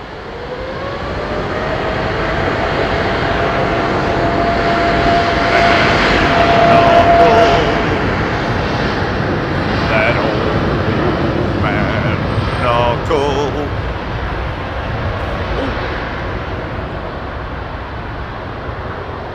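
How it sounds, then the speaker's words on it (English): Virgin A330 and British Airways 777 departing London Heathrow runway 27R for JFK, a loud close jet roar with a rising whine that swells mid-pass and slowly fades, with a voice talking over it. "you've got both a Virgin 330 and BA777, both headed to JFK at the same time."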